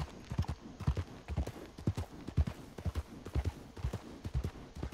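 Horse hooves clip-clopping steadily on a trail, a brisk, close, rhythmic series of hoof strikes with an occasional faint whinny.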